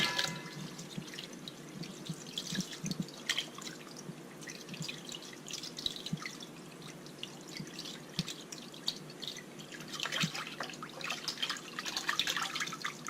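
Water runs from a tap with irregular splashing and dripping as fish is rinsed beneath it, close and fairly quiet, with no speech.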